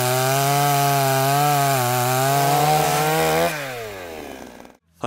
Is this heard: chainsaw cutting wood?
yes